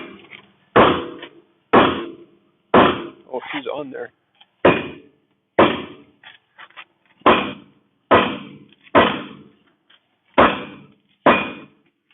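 A hammer strikes repeatedly to loosen a stuck part on a 1978 motorhome. About ten sharp, loud metallic blows land at roughly one-second intervals, with brief speech and small clanks between them.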